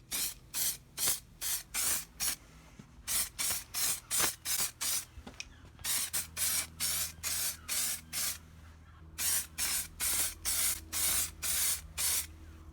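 Primer sprays from an aerosol can onto engine bay parts in many short, evenly spaced hissing bursts, delivered in quick runs separated by brief pauses, close and fairly quiet with no voices.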